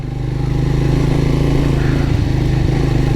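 A single-cylinder 40-horsepower Triumph Speed 400 motorcycle engine idles close by with a steady, loping thump, loud and continuous with no voices.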